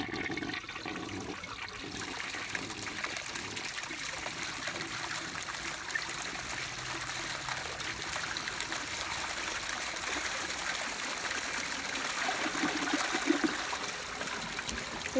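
A 1961 American Standard Cadet toilet flushes with a steady rush and trickle of water that runs on for about fifteen seconds, building slightly toward the end, close and alone.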